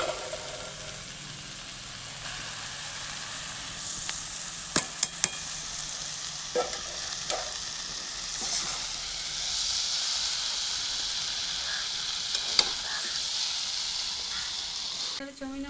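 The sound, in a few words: chowmein noodles stir-fried with half-boiled vegetables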